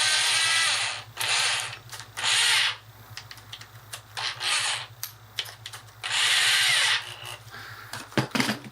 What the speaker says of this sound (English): you want to drill a hole just a little smaller than the anchor